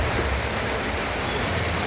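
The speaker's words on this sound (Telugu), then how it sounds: "నేను కావాలని ఐక్యూబ్ మీద మార్కెట్కి వచ్చిన ఫుల్ హెవీ రెయిన్ ఉంది" Heavy nighttime rain pours steadily over a bazaar, a dense continuous hiss of drops on surfaces with a low rumble underneath, no voices.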